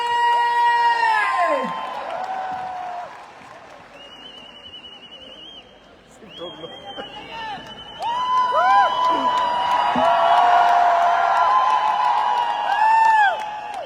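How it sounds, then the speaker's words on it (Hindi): A live seminar audience claps and cheers loudly for Dr. Amit Dubey, with whoops and shouts rising and falling over about fourteen seconds, nearby and sustained, while a host calls out over the crowd. "जोरदार तालियां बजा दी रॉयल एम्बेसडर"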